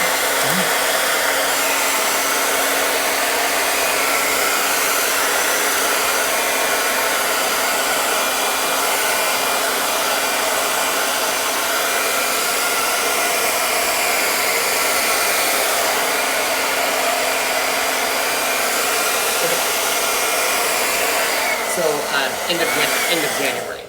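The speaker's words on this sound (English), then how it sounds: "I recommend taking your hairdryer on the hot setting." A hairdryer on its hot setting blows steadily for over twenty seconds, a loud, even roar used to reactivate chalk transfer adhesive on a festive banner, with a brief clatter near the end.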